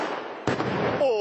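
A sudden sharp blast from an ammunition depot exploding repeatedly in Afrin cuts through a rushing background roar, followed by rumbling debris and a voice rising at the end.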